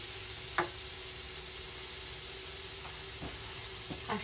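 Mushrooms sizzle steadily in butter in a pan with a soft, continuous frying hiss, broken by a few brief stirring clicks; no one speaks.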